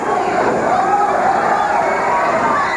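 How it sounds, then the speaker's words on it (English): Wrestling arena crowd roaring and cheering in a dense, continuous wash of many voices, loud and sustained without pause. "listen to this crowd"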